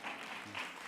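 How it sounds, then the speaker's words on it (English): An audience at a live conversation event breaks into applause, a dense, brief patter of many hands clapping at moderate volume. "Oh, go ahead, you can applaud."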